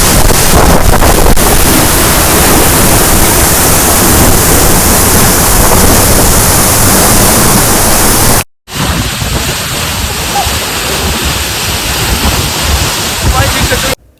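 A loud, continuous roar of a waterfall crashing nearby, broad and unbroken, with a brief dropout partway through before the rushing resumes.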